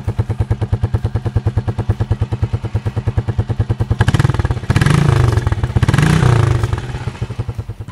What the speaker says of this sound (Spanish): el sonido del escape, como ya les mencionaba, es más parejo, menos ruidoso y más amigable con el oído de las otras personas